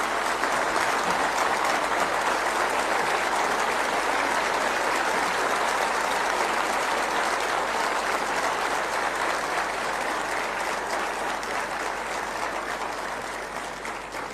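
Sustained audience applause at a public address, steady dense clapping from a large crowd throughout, loud and even before tapering slightly at the end.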